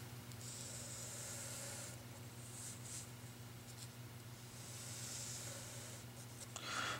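A pen scratches across paper while a diagram is drawn, steady bursts of soft scratching coming and going over a constant low hum, close and fairly quiet.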